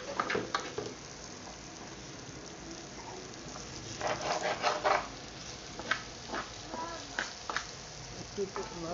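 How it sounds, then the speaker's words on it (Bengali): Ash gourd being stir-fried in a karahi on an electric stove, heard as a faint crackling sizzle with intermittent bursts of stirring and scraping, quiet and somewhat muffled. "চাল কুমড়াগুলো আপনারা এইভাবে কড়াইতে দিয়ে একটু একটু করে নাড়াচাড়া করলেই হয়ে যাবে চাল কুমড়া ভাজি।"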